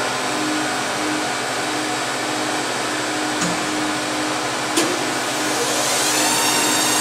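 A hot air blower runs in a polypropylene welding system with an infrared unit, giving a steady, loud broadband whoosh that holds constant throughout, with a couple of faint clicks and no talk.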